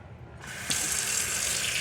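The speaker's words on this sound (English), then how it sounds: "Water." Water runs from a kitchen tap while oxtails are prepared, starting with a soft trickle and swelling into a loud, steady gushing stream that fills the rest of the moment.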